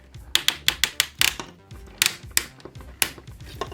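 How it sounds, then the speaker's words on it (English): Plastic joints of a Transformers Studio Series 86 Ultra Magnus figure ratchet as its arms are rotated, giving a quick run of sharp, close clicks in irregular bursts with brief pauses between them. "Lots of ratcheting."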